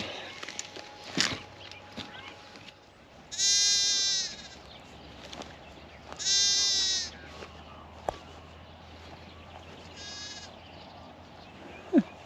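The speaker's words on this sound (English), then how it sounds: "So these are the early hill ewes that weren't meant to be earlies." Ewes and newborn lambs on a New Zealand hill farm during lambing bleat in three loud, drawn-out calls, separated by quieter stretches of outdoor ambience with occasional faint knocks and rustles.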